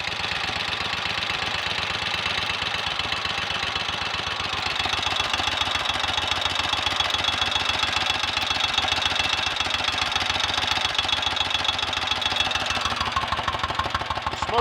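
A rebuilt 1930 Royal Enfield 1000 cc Model K V-twin runs steadily, its rapid even firing pulses loud and close, with ignition backed off slightly.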